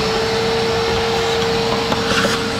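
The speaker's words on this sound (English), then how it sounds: "Before I proceed any further, I'm gonna vacuum out all these spider webs in here." A vacuum cleaner sucks spider webs out of the underside of a Nissan Gloria under restoration, a steady close whine held without a break throughout.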